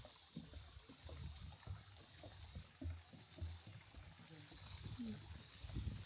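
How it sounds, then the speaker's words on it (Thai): A forest stream trickles and flows as a soft, steady wash of water throughout. A person speaks quietly over it at intervals. "เสียงสายลำธารเสียงนกฮ้อง ฟังน้ำกัน"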